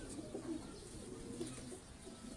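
Pigeons of the Ali wale breed kept by a fancier, soft low cooing calls repeating in a few short bursts, faint and close, with no talk.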